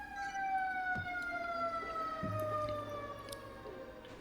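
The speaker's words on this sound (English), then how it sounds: "That was a fire truck going by." A fire truck siren wails in a long, slowly descending tone as it passes, moderately distant, with a low engine rumble and faint clanks underneath.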